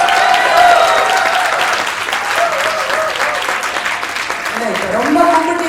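An audience applauds loudly at a 25th-anniversary celebration event, dense clapping filling the hall while voices carry over it.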